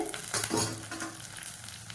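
Onion, curry leaves, green chili and garlic sautéing in a pan for hotel-style pepper chicken, a soft sizzle broken by scraping stirs of a spatula, close and quiet with no talking.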